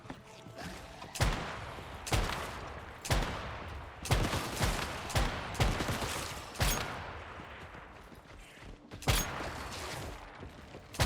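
Weapon shots fired in a video game set in a dream world, about eight sharp, loud reports spaced roughly a second apart over steady background game noise, with no talking.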